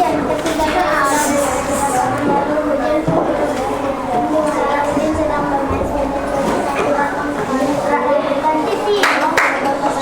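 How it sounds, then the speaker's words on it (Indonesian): A class of students claps for a group in a classroom lesson, brisk overlapping handclaps that are loud and close, mixed with children's chatter and voices throughout. "beri tepuk tangan kelompok 7"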